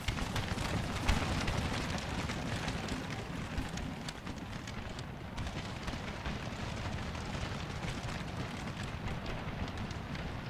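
Distant artillery fire and explosions rumble through a Civil War battle game set at Bloody Lane, a dense continuous crackling roar with irregular booms, fairly faint and without speech.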